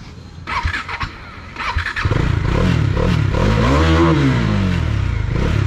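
A Bajaj Dominar 400 motorcycle fitted with an Expulse stand and side stand extender starts up and idles close by, then settles into a loud, steady engine note with rising and falling revs.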